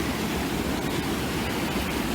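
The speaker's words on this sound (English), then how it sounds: "And yeah, waterfall from above." Steady roar of a waterfall in Galway, Ireland, a dense rushing wash of water with no pauses.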